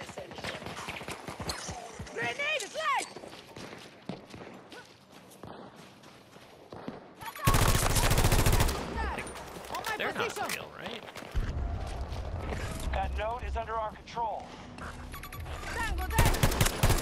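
Light machine gun fire in Battlefield 2042 roars in a sustained loud burst midway, amid game footsteps, explosions and other battle noise, with occasional voices over it.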